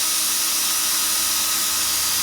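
A drill bores out broken studs on a 1984 Chevy Blazer engine, giving a steady, loud, high-pitched whine that runs unbroken and close up.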